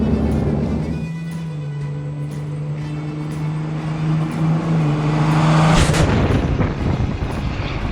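A third-generation Dodge Cummins diesel pickup cruises at about 45 mph, its engine droning steadily up close with a constant low hum and road noise, swelling briefly as a louder rush passes near the end.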